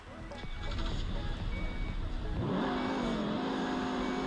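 A 2016 Viking Torslanda sedan, modeled on a 2015 Volvo S60, in the Roblox game Greenville: a steady engine hum that swells midway into a rising rev and then holds loud and close.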